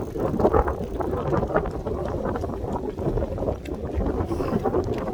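Strong wind buffets the microphone in a steady, heavy rumble, gusting continuously with no voices, during a marathon.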